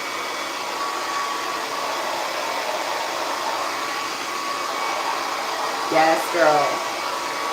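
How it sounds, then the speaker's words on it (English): A blow dryer fitted with a diffuser comb runs steadily while drying curly crochet hair, a constant close airy whoosh throughout, with a brief voice near the end. "It's just a comb at the end of your already existing blow dryer."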